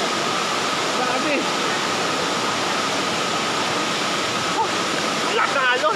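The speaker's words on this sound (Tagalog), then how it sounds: "Ang lakas ng alon." Strong, steady rushing water pours down at Aliw Falls in Luisiana, Laguna, a dense, loud roar filling the whole stretch, with a brief faint voice surfacing near the end.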